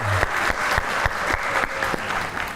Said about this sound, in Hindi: तो भाई उनके लिए एक बार तालियां हो जाएं।